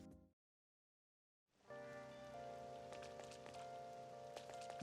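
In the Persona 5 Royal video game, rain falls as a steady, faint patter on a surface, fading in after a brief silence and continuing evenly with soft scattered drops.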